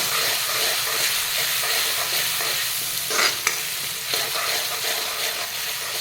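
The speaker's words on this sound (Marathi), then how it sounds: "आता मी ह्यामध्ये 1 चमचा आलं लसूणची पेस्ट घालून घेते। तोही चांगला भाजून घेते" Ginger garlic paste frying with masoor dal in a pan, a loud continuous sizzle and hiss with stirring scrapes, and a brief louder clatter partway through, no one speaking.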